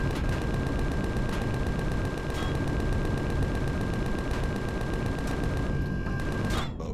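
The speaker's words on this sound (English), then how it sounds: "my homing missiles are not hitting very well" Homing missiles fire continuously in the space survival game Empyrion Galactic Survival, a dense, loud, unbroken barrage of rapid launches and rumbling blasts with a steady tonal whine, cutting off near the end.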